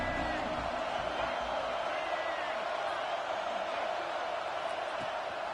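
A packed football stadium crowd at an Auburn game roars on a third-down play, a dense, steady wall of cheering and noise that holds for the whole stretch without a break.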